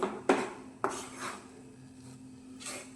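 A spoon scrapes and clinks against a pan as flour roasts in ghee, with a few sharp knocks followed by softer rubbing strokes, close and fairly quiet.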